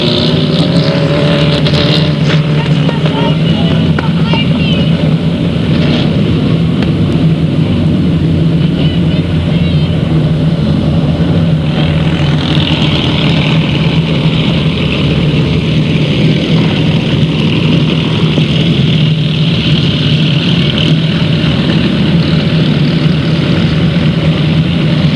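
Race car with a 1959 Starner chassis and Chevy II motor on the Delta Speedway track, loud sustained engine roar blending with crowd and other cars, constant and dense throughout with an announcer's voice faintly underneath.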